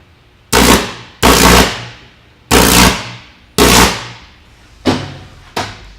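Six sharp, loud cracking bursts from a 7,000-volt electrical discharge striking a grapefruit, each snapping on abruptly and decaying over about half a second, arriving in an irregular series with short quiet gaps between them.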